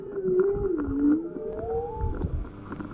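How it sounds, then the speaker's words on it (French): Long, sliding tonal whale calls rise and fall slowly, moaning and wavering over a low rumbling background, with no voices present. "Le monde du silence, parfois brisé par le chant des baleines."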